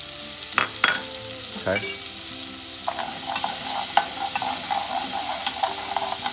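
Onions frying in bacon fat and peanut oil for clam chowder, a steady broadband sizzle with a few utensil knocks and scrapes early on, fairly close; a brief spoken word at the start.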